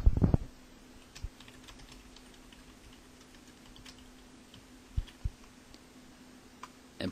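An email address being typed on a computer keyboard, with a few sparse, close key clicks separated by long quiet gaps over a faint steady hum.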